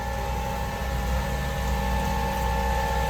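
A Putzmeister 38-5 concrete pump pushes grout through a placing boom, giving a steady, dense mechanical drone with a low pulsing churn and sharp tonal hum, loud and continuous throughout.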